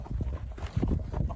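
Horse hooves clip-clopping over rocky mountain ground scattered with stones, a few uneven close thuds in quick succession.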